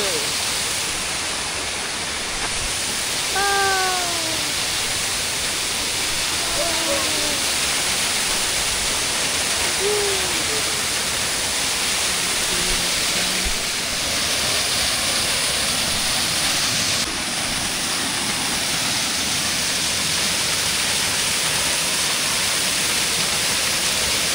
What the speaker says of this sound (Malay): Air terjun Bukit Tangga.